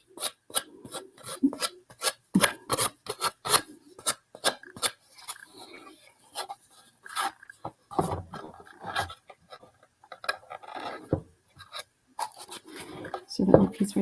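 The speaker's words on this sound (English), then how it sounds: "when I sand, I'm trying to sand straight so it just chops it off the edge" Repeated rasping strokes of sandpaper filing along the edge of an upcycled wooden heart, close and fairly loud, in short uneven bursts with pauses, with a voice talking intermittently between strokes.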